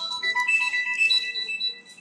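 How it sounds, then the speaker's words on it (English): A mobile phone ringtone plays indoors, a clear electronic melodic ring of stepped tones repeating for about two seconds, moderately loud and alone with no talking. "As soon as I start a video, my phone rings."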